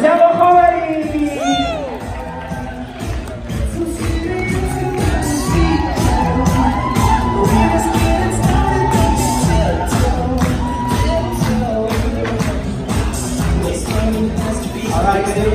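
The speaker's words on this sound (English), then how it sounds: "How about a big round of applause for the best man tonight, Mr. Saba Khawari." A large wedding crowd cheers and whoops loudly for the best man, a dense sustained roar of voices with shouts rising over it throughout.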